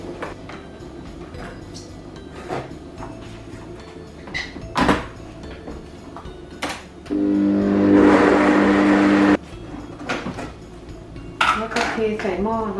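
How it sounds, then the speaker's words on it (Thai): Blender whirring as it purees fresh mulberries for jam, a steady loud motor burst of about two seconds amid kitchen clatter and someone speaking. "ปั่นผลไม้ไม่ใช่ปั่นแยมนะคะ"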